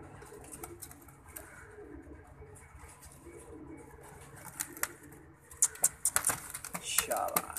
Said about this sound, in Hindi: आसमानी कबूतरों पे दिल आया होता है मेरा